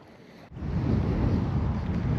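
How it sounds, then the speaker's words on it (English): Wind gusts across the microphone beside a Scottish loch while fishing for perch, a loud, low, rumbling buffet that swells suddenly after a brief quiet moment. "That wind's getting up again."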